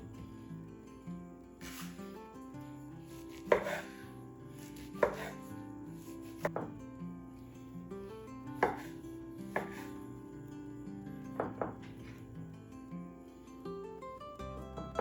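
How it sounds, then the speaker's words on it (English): Bread is chopped into cubes on a cutting board for a breakfast casserole, with irregular knife strikes knocking against the board, close and fairly quiet, and no talking. "I've chopped that bread up"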